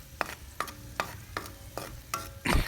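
Garlic sautéing in a pan for bagoong alamang, a bright sizzle broken by regular scraping stir strokes about every half second, ending in a louder clatter.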